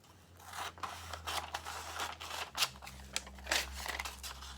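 Scissors snip through a sheet of paper while making a concertina book, a run of crisp cuts in uneven rhythm, close and fairly quiet, with no talk.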